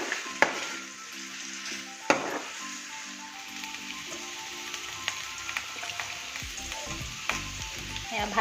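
Potatoes fry in a pan at a self-catering stay in Shillong, giving a steady close sizzle with a few sharp clacks of stirring.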